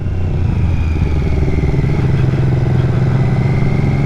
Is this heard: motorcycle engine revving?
yes